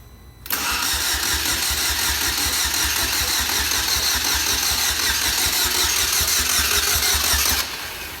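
A salvaged car's engine cranks and catches, then runs at a steady, loud idle with a fast regular pulse for about seven seconds before cutting off.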